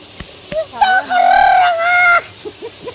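A loud, close crow imitating a rooster, with a drawn-out wavering call, preceded and followed by short clucking notes.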